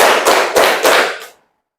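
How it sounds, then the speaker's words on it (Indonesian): A group of people, counting in a clapping rhythm game, give four loud, sharp, unison claps at an even pace, then fall silent. "Tepuk 1, tepuk 2, tepuk 3, tepuk 4, tepuk 5."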